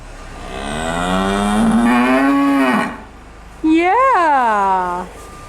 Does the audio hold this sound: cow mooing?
yes